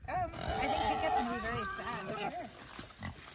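Sanctuary goats bleat as they are let out of their pen, several wavering calls close by, overlapping with people talking.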